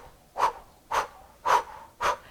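Four sharp, forceful Kapalabhati exhalations pushed out through the mouth on half a breath, evenly spaced about half a second apart, close and fairly quiet with faint breathy noise between.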